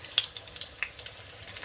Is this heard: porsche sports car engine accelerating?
no